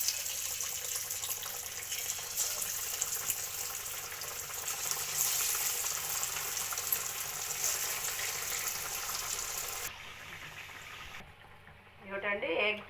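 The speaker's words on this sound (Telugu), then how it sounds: "నూనె కాగాక మనం ఇది డీప్ ఫ్రై చేసుకుందామండి" Chandrakanthalu sweets deep-fry in hot oil in a kadai: a steady, faint hissing sizzle that runs evenly, then drops away near the end as a voice speaks briefly.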